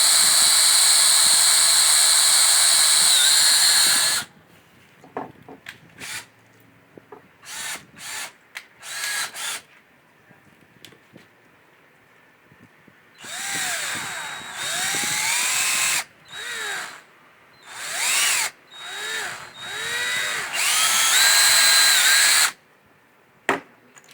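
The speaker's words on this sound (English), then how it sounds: "They drill that." Power drill boring into a wooden spinning top in an Amish woodworking shop, long loud whining runs stopping and restarting in short bursts, with quieter gaps between.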